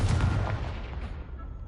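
A Confringo spell blast from Hogwarts Legacy, a loud booming burst that hits at once and then decays into a fading rumble over under two seconds, with no talk.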